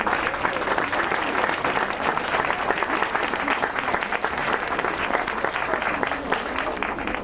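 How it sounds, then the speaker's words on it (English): A roomful of people applauding at a memorial tribute gathering, sustained crisp clapping from many hands, even and fairly loud for several seconds without a break. "Can we clap for Scott and his friends?"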